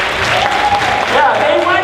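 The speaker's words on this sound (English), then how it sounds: "These students, give them a round of applause" Youth forum audience applauding students, brief dense clapping with voices and cheering mixed in.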